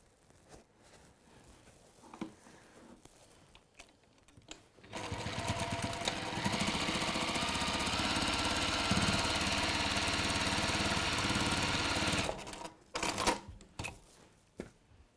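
A sewing machine stitching fabric runs fast for about seven seconds as a loud, dense mechanical whir. Quieter handling noises and small clicks come before and after the run.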